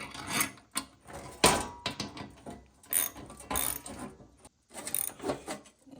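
Wrench turning a nut to tighten a 3D printed dimple die for sheet metal, giving a string of close, irregular clicks and creaks with brief pauses between strokes.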